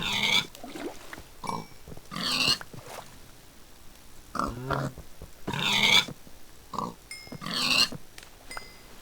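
Pigs in a video game grunt and squeal in repeated bursts, loud and close, with short pauses between each round of oinking.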